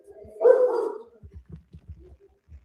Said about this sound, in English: Listen at them hounds. Get them hounds under control.